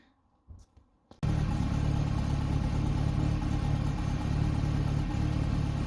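A Ford Capri engine with a 32/36 carburettor runs on choke, starting abruptly after a few faint clicks and then holding a steady, close, even idle drone.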